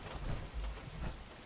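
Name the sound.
rain and thunderstorm weather in the video game Fallout 76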